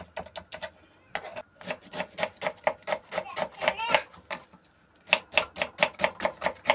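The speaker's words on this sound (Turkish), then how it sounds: "Evet, bir taraftan da soğanlarımı doğruyorum. Şöyle incecik incecik." A knife slices onions very thinly on a board, giving a quick run of crisp, close chopping strokes with short pauses between bursts.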